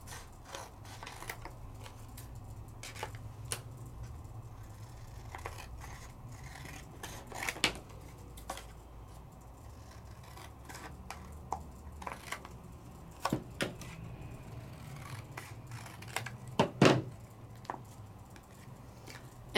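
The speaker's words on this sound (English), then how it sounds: "Trim it out." Scissors trimming around a paper die cut for a card, soft snips and rustles close by in a quiet room, with a few sharper cuts toward the end and no speech.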